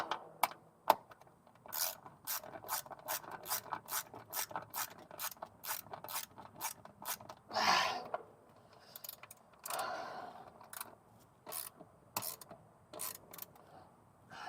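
A ratchet clicks in quick rapid bursts while tightening bolts on a BMW flex disc and driveshaft, close and crisp, with pauses, a brief rubbing scrape and a few single clicks.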